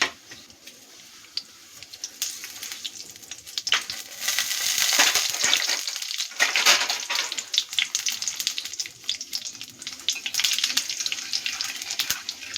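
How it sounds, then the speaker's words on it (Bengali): Whole cumin seeds hit hot oil and sizzle in a pan, a close crackling hiss that swells after a quiet start and keeps popping and spitting throughout. "তেলটা গরম হয়ে গেছে, এবার আমি দিয়ে দিচ্ছি গোটা জিরে ফোড়ন।"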